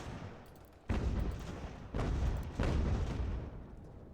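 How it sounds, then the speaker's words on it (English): Artillery fire in the Revolutionary War strategy game Ultimate General: American Revolution: three heavy booming cannon blasts, each followed by a long rumbling decay, sound close and loud with no talk over them. "His artillery's just lighting me up, though."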